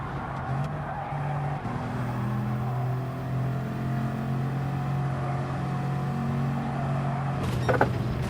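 Sustained droning engine of a race car in a video game, a steady tonal hum that shifts pitch in stepped changes as it runs, heard alone at moderate level with a short clatter near the end.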